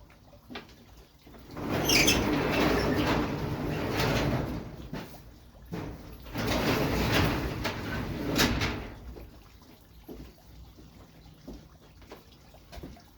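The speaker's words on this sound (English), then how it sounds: "So I'm going to just close this garage door so I don't break the windows." A garage door closes in two long, rolling rumbles separated by a short pause, followed by quieter clunks and rattles as it settles. Nobody speaks.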